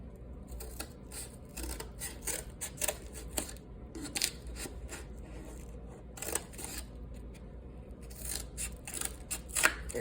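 Scissors snip through cardboard to cut out a paper-plane wing, a steady run of crisp, close cutting strokes with short pauses between bursts and no talking.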